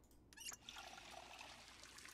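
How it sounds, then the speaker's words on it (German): Water trickling and pouring steadily as a bottle is filled from a shower in the survival game Project Zomboid, a soft continuous liquid stream after a brief clatter at the start. "Befülle erstmal Wasserflasche."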